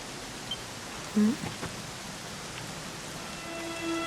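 Steady rain falls in the video game Dragon Quest XI S, a continuous soft wash of noise with a few brief tonal game sounds over it and no talk.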